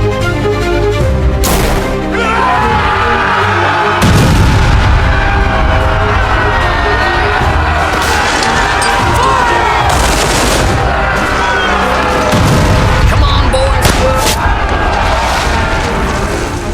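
Massed gunfire and booming artillery at a First Manassas (Bull Run) battle reenactment, dense sustained volleys with loud cannon blasts around 1.5, 4 and 13 seconds over crowd noise, no talk.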